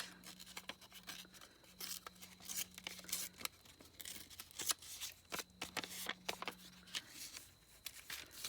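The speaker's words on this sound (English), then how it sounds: "Just going to rip the edges of it a bit because I like to do that." Paper being ripped along its edges for a handmade journal cover, with soft, close tearing and crinkling in short bursts separated by brief pauses, quiet and with no voice.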